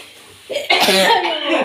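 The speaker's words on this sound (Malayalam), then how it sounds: "ഞാനും ചുമക്കും" A single loud, close cough bursts out after a brief quiet moment, harsh and breathy.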